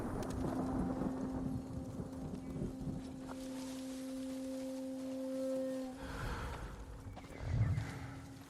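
Horses in the samurai video game Ghost of Tsushima whinny over a steady game soundtrack with sustained tones, hooves clip-clopping faintly beneath, then a louder burst near the end; no talk.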